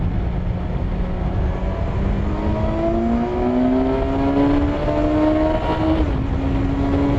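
A 2020 Kawasaki Versys 1000 motorcycle engine revving while riding: a steady engine drone rising gradually in pitch through the gears, with a brief dip at a shift, heard close and alone against wind noise.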